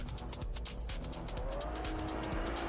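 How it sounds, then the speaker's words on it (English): Drift cars at a competition, a black and yellow Toyota Supra chased by a Nissan S15, their engines roaring loud and close with tires squealing and skidding continuously throughout. "David in this black and yellow Supra. Christian chasing in S15 right now."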